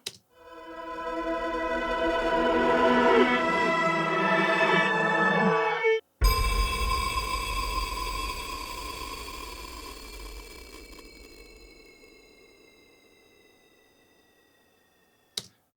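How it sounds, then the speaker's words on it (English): A podcast audio logo plays alone: original music with bright layered tonal notes building for several seconds, a sharp cut, then a swelling sound-design wash with gliding tones that slowly fades out, ending on a brief click. "the Audiologo that we put at the beginning of each episode"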